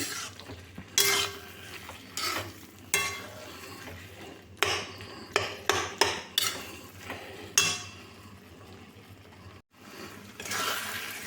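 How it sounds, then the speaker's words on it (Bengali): Tomato chutney pressed and stirred with a spatula in a pan, with repeated scraping and clinking strokes in uneven bursts over a low, steady cooking hiss, close and moderately quiet. "খুঁতি দিয়ে চেপে চেপে নেড়ে নিচ্ছি"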